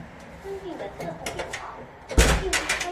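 A bank ATM booth door swings shut with a solid thud and latch click near the end, following a short stretch of someone talking over faint street background.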